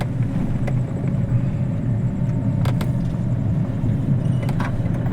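A car engine drives along at night in second gear, a steady, loud low rumble that stays even throughout, with a few faint clicks and ticks on top.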